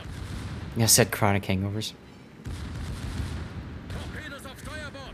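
Secondary guns and depth charges on a Tier 10 German battleship, the Kurfurst, in World of Warships, go off in loud booming bursts and rattling salvos while someone talks over the action.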